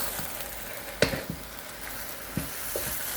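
Pork cutlets and Chinese broccoli (gai lan) stir-frying in a pan, a soft steady sizzle broken by a few sharp scrapes and clacks of stirring, fairly quiet and without voices.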